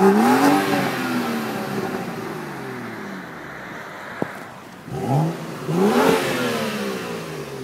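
A BMW F30 335i engine revs up and settles, with a sharp click midway, then revs again in rising, falling sweeps, close and fairly loud.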